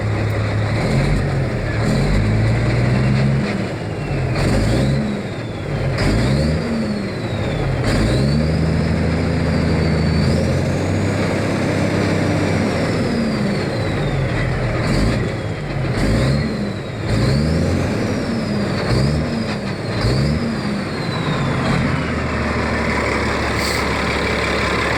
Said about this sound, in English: Now it sounds like a caterpillar instead of just a clattering mess.